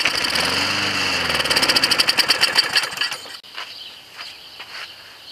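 Small lawnmower engine running on regular gasoline, sputtering in rapid pulsing bursts that rise and then falter before it dies out midway, leaving only faint knocks and clicks.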